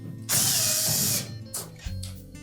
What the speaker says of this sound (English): Typically these screws are a number 2 Phillips. Just remove them both.